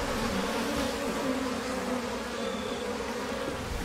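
Bees buzzing in the sailing video game Sail Forth, a continuous steady drone at even loudness throughout, with no voices over it.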